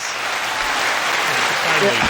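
A short burst of pre-recorded applause and cheering plays from a soundboard button, loud and close, filling about two seconds.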